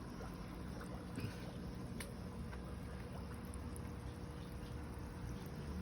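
Aquarium aerator air pump pushing air through a main control valve that splits airflow among outlets, in a balloon molly and guppy tank setup; a steady, noisy hiss and bubbling wash runs continuously throughout.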